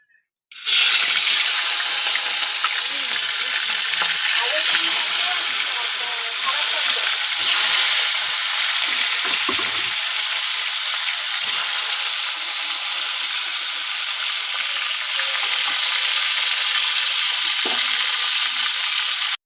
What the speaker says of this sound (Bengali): এবার আমি মাছটা ভেজে নেব।